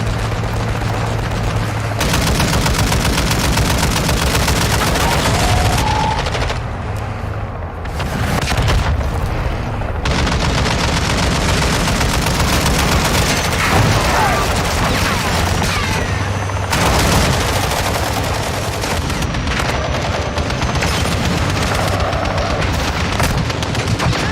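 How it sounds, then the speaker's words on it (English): Call of Duty Modern Warfare II DMZ firefight with loud, sustained automatic gunfire bursts and booming impacts, broken by short pauses, continuing for over twenty seconds. "Taking fire!"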